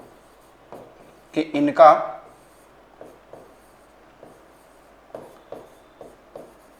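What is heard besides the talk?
writing on a board while teaching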